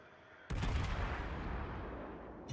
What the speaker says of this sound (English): I'm going to try and get a shot over the island here.